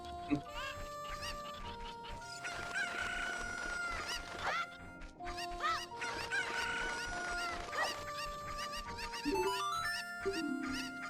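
Chickens in the video game Ocarina of Time cluck and crow in repeated bursts over steady game background sound, moderately loud.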